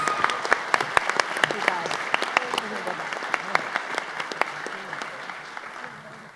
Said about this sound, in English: One more round of applause for these incredible young students.